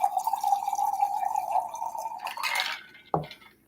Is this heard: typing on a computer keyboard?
no